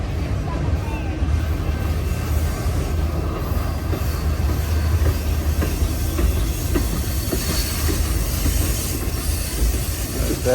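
Long train of rail cars, some carrying white automobiles, rolling past continuously with a loud, close, steady rumble and rattle, faint wheel squeal and hiss, and a voice heard faintly at times.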